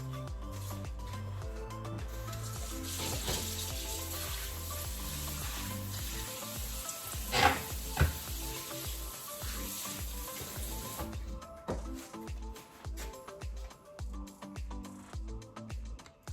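Vegetables frying in hot oil for Guyanese chow mein, a soft steady sizzle with occasional clinks and scrapes of a utensil, fairly quiet and close, with no talking.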